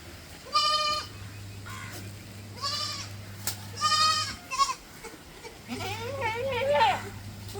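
A Malabari mother goat and her young female kid bleat several times nearby in a livestock sale setting. The cries are separated by pauses, and a low background hum comes and goes.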